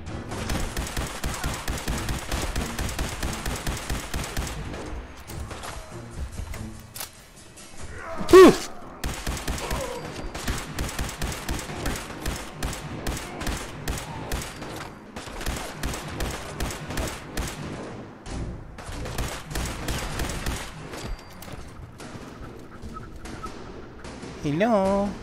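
Rapid gunfire in Fallout 4 VR as a shack is shot at, long runs of steady automatic shots broken by short pauses and one heavy thump, close and loud.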